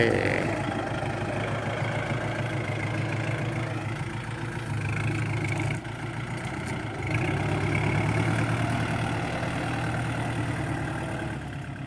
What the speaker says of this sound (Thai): เอา รถไถ